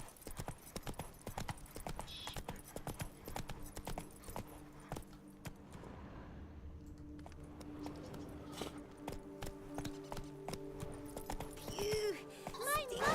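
A horse's hooves clip-clop in The Witcher 3 as the rider urges it on, a steady rhythmic clatter with an occasional whinny, heard under a man's speech and game music.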